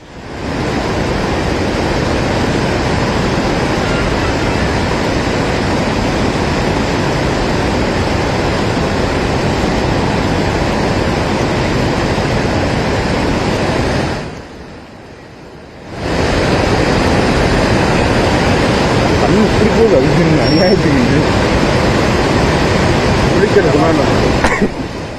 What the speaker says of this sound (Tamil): குற்றாலத்தில் 3வது நாளாக வெள்ளம் ஆர்ப்பரித்து கொட்டுகிறது